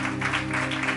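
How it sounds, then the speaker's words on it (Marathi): A church congregation claps together during a sermon, a brief burst of dense applause over a steady sustained musical drone. "जोरदार टाळ्या प्रभूच्या करू"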